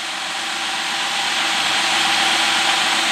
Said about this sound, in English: 3-liter dual overhead cam, 24 valve V6, factory rated at about 200 horsepower.